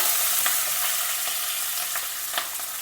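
Chopped green chillies and curry leaves fry in oil in a pan, a steady close sizzle and hiss with a few brief sharper pops and spatters, no talking.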